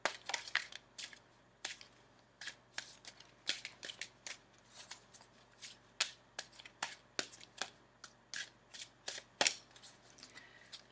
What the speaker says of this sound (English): and the final shuffle